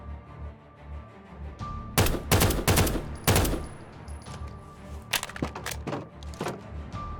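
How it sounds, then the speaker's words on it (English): An enemy bombardment strikes a cabin during a war in modded Minecraft. Clusters of sharp, loud cracks and bangs arrive in two bursts over a low rumbling background, with scattered single impacts between them. "It started with an enemy bombardment of the cabin above."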